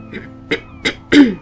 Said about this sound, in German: ich musste mich gerade mal räuspern